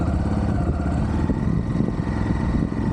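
A Cyclone motorcycle engine runs in a steady, loud, continuous drone close by, holding an even pitch with no speech over it.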